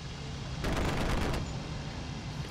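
Aircraft guns firing in IL-2 Cliffs of Dover during a dogfight with a Hurricane, a short rattling burst of under a second over steady engine drone, no talk over it.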